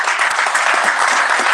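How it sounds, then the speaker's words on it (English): Steady audience applause at a parents' education seminar, dense and continuous throughout, close and loud with no talking over it. "Can we clap again for this young girl?"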